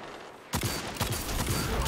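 Rapid video game gunfire erupts suddenly after a brief quiet, a dense burst of shots continuing steadily and loudly to the end.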